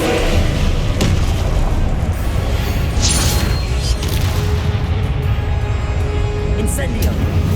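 Loud booming blast of the Confringo spell in Hogwarts Legacy, a dense rumbling explosion with crackling debris, sustained and near throughout.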